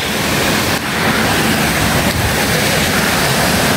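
A mountain waterfall roars with a dense, continuous rush of falling water, loud and close, and nothing else stands out over it.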